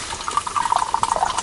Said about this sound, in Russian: да, чай налить, говорят? Да, наливай.